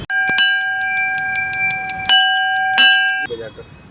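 Protesters at a Tana Bhagat demonstration in Ranchi against panchayat elections ring a metal bell in repeated loud, sustained strikes whose tones ring on between hits, with voices mixed in.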